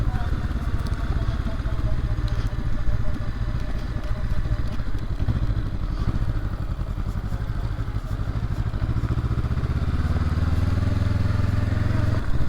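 A 2023 Honda SCL500 Scrambler on 705 tyres rides a muddy woodland track. Its engine throbs close and continuous under wind buffeting, slowing with a deeper idle-like rumble near the end.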